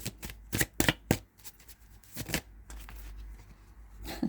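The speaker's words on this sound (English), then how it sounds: "Let's get one more card," Tarot cards shuffled by hand in a series of crisp riffling and slapping bursts, close and fairly loud, with a few pauses between flurries and no talking.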